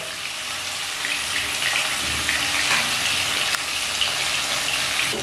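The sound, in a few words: rohu fish frying in oil until golden brown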